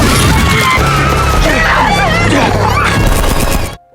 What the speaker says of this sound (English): a burst of intense gunfire explodes in their ears